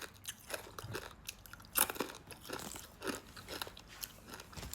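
Crispy spicy baby crab being chewed up close, a steady run of sharp crunches and crackly bites in quick irregular rhythm, fairly quiet with no talking.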